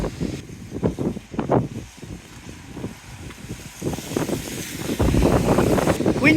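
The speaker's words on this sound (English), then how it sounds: "we've still got this rain, we've still got the wind" Wind gusts buffet the microphone on a wet, windy day, with irregular rustling bursts and a steadier roar building toward the end, loud and close.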